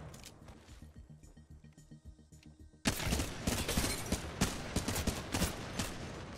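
Gunfire from a custom gun in Halo, a burst of loud repeated shots that starts abruptly partway through and keeps going in dense rapid cracks after a quieter rhythmic stretch.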